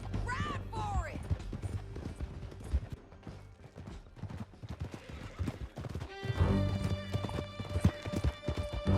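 Horse hooves clip-clop at a gallop in the Red Dead Redemption 2 video game, a fast steady rhythm running throughout, with a brief whinny early on, music and game effects layered over it.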